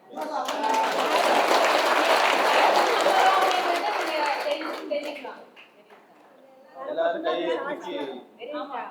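A crowd breaks into sustained clapping and cheering for several seconds, then fades before a second, shorter burst of applause with chatter.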